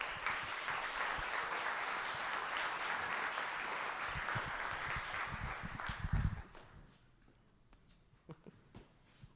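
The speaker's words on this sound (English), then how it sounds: "Everyone give them a round of applause." An audience claps after speeches, a steady, moderately loud round of applause that swells briefly near the end, then cuts off into quiet room tone with a few faint knocks.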